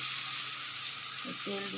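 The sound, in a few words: oil sizzling in a heated kadai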